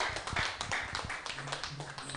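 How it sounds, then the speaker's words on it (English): Audience at an AGPHARM special training workshop clapping, a short burst of fairly faint, dense applause with a few louder individual claps, fading out within about two seconds. "Another round of applause for him."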